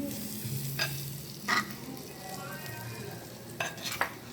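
Sisig sizzling on a hot plate at a Thai restaurant while it is stirred, a steady close hiss with a few sharp scraping clinks from the utensil, no talking.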